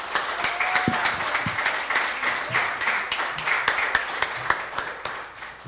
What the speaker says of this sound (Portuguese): Que as palmas louvem ao Senhor.